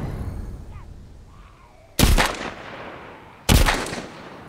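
Two loud, close AR-416 rifle shots in The Walking Dead: Saints & Sinners, each a sharp crack with a decaying echo tail, well spaced over quiet ambient game noise.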